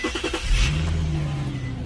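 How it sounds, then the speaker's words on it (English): An Infiniti G37 engine runs up to temperature after a spark plug replacement, giving a few quick puffs before a loud revving swell that settles into a steady idle hum, heard close and alone. "you gotta let the car run up to the temperature"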